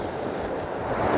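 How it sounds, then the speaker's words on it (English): Ocean waves washing onto an East Coast beach on a morning shoot, a steady rushing surf with wind buffeting the microphone, swelling slightly louder at the end. "The waves are beautiful, the light is absolutely gorgeous this morning."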